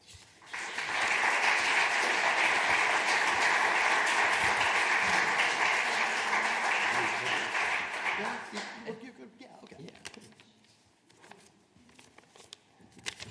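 An audience at a sustainability champions awards ceremony applauds steadily as an Individual Impact Award recipient is welcomed, a dense, even clapping that lasts about eight seconds before fading into scattered claps and quiet room noise.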